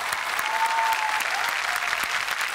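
A studio audience at a Marathi comedy show applauds a guest, dense steady clapping from a large crowd that holds at the same level throughout without a break.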